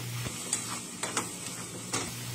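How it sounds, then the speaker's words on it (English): Butter and garlic sizzle in a pan with a soft, steady frying hiss, broken by a few sharp scrapes and taps as a utensil stirs through it. "let's go ahead and stir this and get this all yummy and delicious and cooked"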